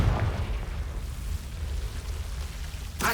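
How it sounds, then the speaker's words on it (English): A Confringo blasting spell in Hogwarts Legacy erupts into a rumbling explosion, with a low boom at the start trailing into crackling debris noise and a sharp burst at the end. "Confringo."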